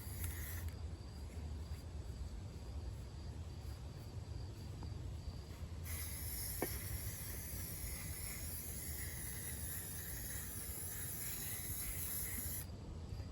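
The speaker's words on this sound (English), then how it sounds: "Leave it dry for a few minutes and then re-spray it again." A spray can steadily hisses paint onto a recycled craft pumpkin, a faint continuous spray that stops and restarts partway through, with no voices.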